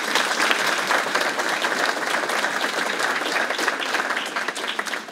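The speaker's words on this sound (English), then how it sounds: "Let's give them a round of applause." A gala audience claps for event sponsors, a full, continuous round of applause that stays loud and even throughout.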